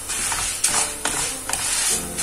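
Vermicelli being stirred as it browns in a pan, a steady dry rustling and scraping with a few sharper clinks of the utensil against the pan, close up and with no talking.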